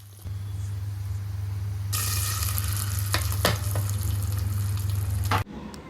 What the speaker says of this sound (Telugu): ఇప్పుడు కరేపాకు రొమ్మలు వేసుకుందాం